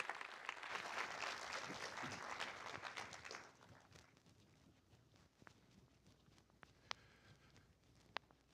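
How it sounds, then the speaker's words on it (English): Applause from a conference audience at a developer event, a broad crackling wash of clapping for about three and a half seconds that then fades to scattered claps and quiet room noise. "Let's give another round of applause."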